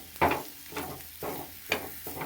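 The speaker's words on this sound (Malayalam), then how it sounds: "ചെറിയ തീയിലിട്ട് വഴറ്റിക്കൊണ്ടിരിക്കണം" Angamaly style pork fry sizzling over a low flame in its own rendered fat, with soft frying crackle and a few louder stirring scrapes at an uneven rhythm, close by and without talk.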